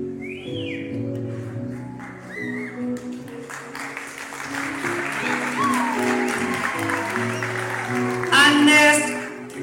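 An audience claps and whistles for a keyboard player at a church gathering, a rising burst of applause and cheers that peaks near the end, over sustained keyboard chords and some voices.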